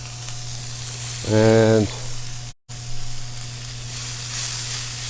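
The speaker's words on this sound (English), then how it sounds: "Now I'm going to throw the onion in." Chopped onion tossed into a hot pan after frying bacon, breaking into a bright steady sizzle that continues alone after a brief tonal sound and short pause, with a single word spoken.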